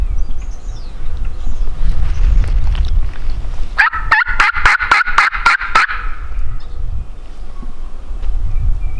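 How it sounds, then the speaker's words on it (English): A wild Rio Grande turkey gobbles once from far across a field in Kansas, a rapid rattling burst of about seven pulses heard over steady wind noise. "He's gobbled a couple times."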